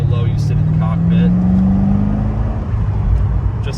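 2006 Chevy Corvette Z06 with its LS7 V8 rising to about 3,000 RPM, a deep steady engine drone climbing gently in pitch, close and loud, with a voice talking over it.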